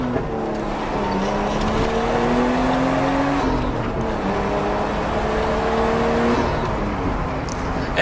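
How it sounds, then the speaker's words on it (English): A Nissan Skyline R33 engine revving up through its range, steady loud engine note with rising and falling harmonics over about eight seconds, no talk. "as you can see, it goes through the RPM really fast"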